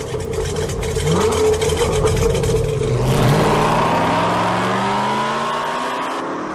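Pro Street drag race cars launch side by side on a Boomtown Main Street drag strip, engines roaring loudly and rising in pitch as they accelerate hard away, with a sustained, slightly fading howl after launch.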